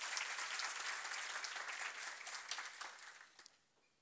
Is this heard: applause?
yes